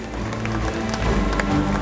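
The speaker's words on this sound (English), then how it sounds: "Let us put our hands together and welcome the Vice President of ISCO" Brief clattering applause from an audience welcoming a guest onto the stage at a cultural festival in Mumbai, dense and steady with a low background hum.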